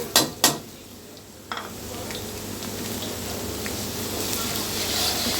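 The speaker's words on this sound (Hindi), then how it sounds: "इसको 2 से 3 मिनट भून लेंगे।" Ginger and garlic sizzle with browned onions in a hot pan while cooking chicken chili, a steady frying hiss under a few early utensil clanks against the pan.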